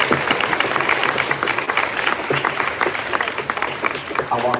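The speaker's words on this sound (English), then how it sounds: "give a round of applause for your 3 incredible band directors here at West Village" Sustained applause from a school band concert audience, with dense clapping spread across the whole stretch at a steady, fairly loud level and no break.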